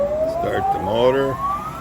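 Blanchard Model 18 rotary surface grinder with an 18-inch wheel and 36-inch chuck starts its motor: a steady whine climbs smoothly in pitch over about two seconds, with a voice briefly talking over it.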